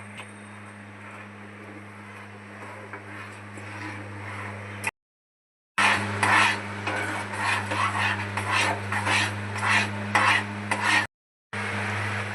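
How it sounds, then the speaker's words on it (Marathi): Semolina being stirred into a pot for upma, with scraping and rustling of a spoon against the pot over a low steady hum, growing busier and louder after a short gap, close by. "मध्ये रवा ऍड करते सावकाश मिक्स करण्यात एक गट्टा बनणार लगेच मिक्स करायचा"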